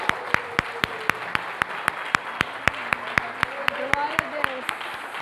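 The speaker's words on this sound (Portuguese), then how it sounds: "Vamos aplaudir o nome do Senhor Jesus." A church congregation clapping in unison to honor Jesus, sharp evenly spaced rhythmic claps repeating about three times per second over a low background of voices and a sustained tone.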